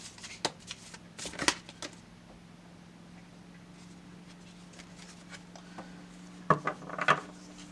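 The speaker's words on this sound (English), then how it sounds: "she does want another Lover's Oracle card. I'm going to shuffle it out this time." A deck of Lover's Oracle cards is shuffled by hand in short bursts, with soft riffling and tapping at the start and again near the end, quiet gaps between them, under a steady low hum.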